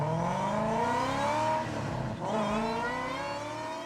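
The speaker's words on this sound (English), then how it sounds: "Raven started the engine and began to roar like a wild beast." Engine of a car in Honkai Impact 3rd starting and roaring, a loud rising whine that climbs in pitch, dips briefly and then revs up again, with no talk over it.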